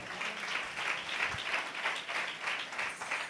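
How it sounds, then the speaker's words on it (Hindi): A church congregation claps steadily in a large room at a Resurrection Day service, moderately loud, a continuous wave of applause with no talking. "उसके लिए जोरदार तालियां"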